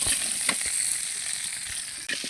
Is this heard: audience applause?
no